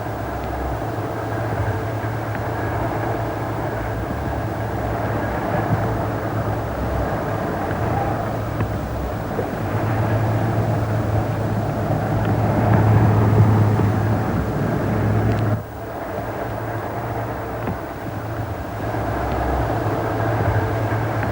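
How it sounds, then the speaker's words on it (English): A train pulls into Junction Road Halt on a heritage railway, a steady low rumble and rolling wheel noise that swells toward the middle, then cuts down abruptly near the end as it slows. "Junction Road Halt was about to receive its last train."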